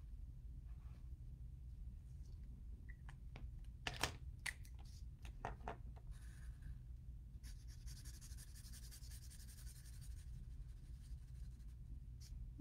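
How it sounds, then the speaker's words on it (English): Pen strokes scratch across paper while lines are drawn to decorate a paper toy theater aquarium, with a few brief sharp strokes and then longer steady scratching, close and soft over a low background hum. "I'm just gonna draw some lines on there."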